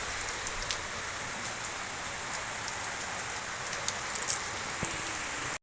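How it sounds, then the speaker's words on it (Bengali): Heavy rain pours down in a steady, dense hiss, with occasional sharper drop hits and no voices over the constant downpour. "জোরে বৃষ্টি হতে লেগে গেছে কেমন।"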